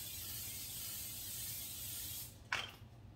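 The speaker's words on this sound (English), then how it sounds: "I'll just take my canola oil" A short hissing burst of canola oil spray over the top of a peach cobbler, a single quick spritz lasting under a second after a steady background hum, close and clear.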